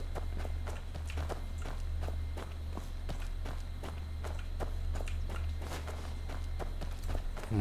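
Running footsteps in the video game Where Winds Meet, a fast and steady run of even steps over a low background hum, with no talking.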